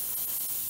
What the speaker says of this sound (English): make sure that you keep the airbrush moving